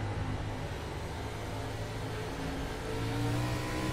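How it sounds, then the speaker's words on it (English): A race car engine drones steadily on the track at Nashville Fairgrounds during a BRR Cup race, with a dense, continuous throttle roar and a slight rise in pitch and loudness near the end. "But listen closely to the engine note"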